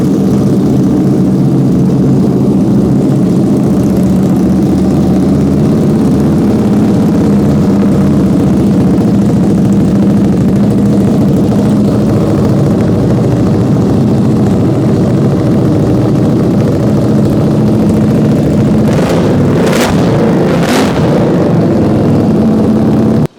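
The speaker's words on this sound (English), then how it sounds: "This one has the full race exhaust." A motorcycle with a full race exhaust drones steadily at close range, with a couple of sharp higher revving bursts near the end.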